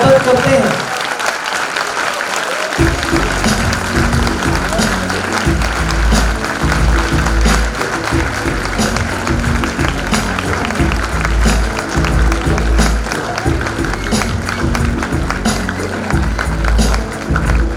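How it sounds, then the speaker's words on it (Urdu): An audience at the National Readers Conference in Pakistan breaks into loud, sustained applause, a dense continuous clapping that swells in and carries on steadily, with some voices underneath. "سر انور مسعود کے لیے بھرپور تالیاں"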